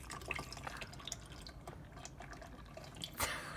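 Coolant drips and splashes from a blown turbocharged Honda F20b engine during teardown, with faint, irregular drops and one louder splatter near the end, no one speaking.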